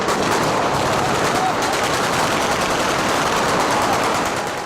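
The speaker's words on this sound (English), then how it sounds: "Then, incoming fire." Incoming gunfire in a Libyan urban setting: sustained, dense bursts of rapid automatic fire crackling continuously and loudly throughout, with no pauses between shots.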